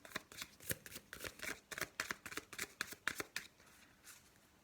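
Tarot cards shuffled and dealt out for a Valentine's partnership pick-a-pile reading: a close, brisk run of crisp papery riffles and snaps that slows and fades near the end, with no talking.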